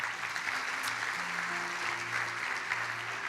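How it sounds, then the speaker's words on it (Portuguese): A church congregation applauds during a sermon, with steady dense clapping from many hands and a faint sustained tone running underneath, moderately quiet and even throughout. "Dê outro aplauso a Ele."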